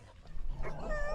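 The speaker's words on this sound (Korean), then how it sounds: "개들이 짖기 시작합니다." Dogs at a Hadza camp near a dry-season watering spot, giving short, close yips and whining barks that rise in pitch over faint outdoor background.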